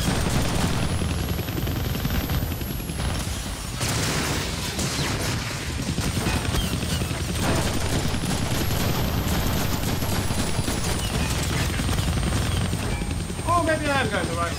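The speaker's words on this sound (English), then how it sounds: "I can't kill that chopper with my guns" An attacking helicopter in the Deadpool video game, its rotor drone steady and loud under bursts of game effects and clattering gunfire, with a whooshing sweep passing twice and crackling sounds near the end.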